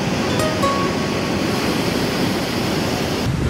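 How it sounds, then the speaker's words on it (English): Ocean surf breaks at Pavones, Costa Rica, a famous long left point break, making a loud, continuous roaring wash of waves with wind buffeting the microphone and no voices. "The waves just kept breaking and breaking"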